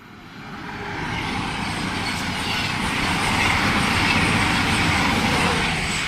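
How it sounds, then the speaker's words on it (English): A Voyager train rushes past at speed on the West Coast Main Line at Bushey, a loud continuous rumbling roar that builds quickly and stays strong throughout. "there's another Voyager hightailing it through"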